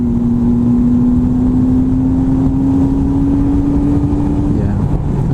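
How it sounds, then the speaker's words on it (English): A Triumph Tiger 800 motorcycle engine drones loudly and steadily as it pulls, its pitch rising slowly, with strong wind rush. "Throttle's nice and smooth. The engine, that sound."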